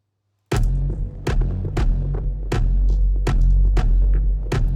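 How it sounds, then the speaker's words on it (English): A handpan hit processed with echo, filter and distortion effects in Ableton and played from an 808 drum rack thuds in a regular rhythm of about six heavy, booming beats with a droning tail, starting after a brief silence. "I took one of the hits of the handpan and I put it on my 808 drum rack."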